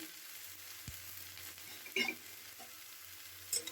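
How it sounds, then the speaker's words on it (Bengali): Chopped ivy gourd stir-fried with browned onions gives a soft, continuous sizzle, with a sharp knock of the spatula and a couple of brief scraping stirs. "এটা দিয়ে বেশ কিছুক্ষণ আমি নাড়াচাড়া করে নিচ্ছি"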